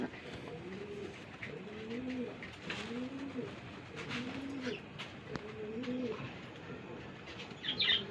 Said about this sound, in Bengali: নরটা কিন্তু খুব ভালো ডাকে